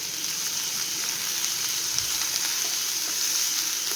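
Onions fry in hot oil in a pan, a steady, loud, hissing sizzle that runs unbroken throughout with a few faint scrapes and no voices.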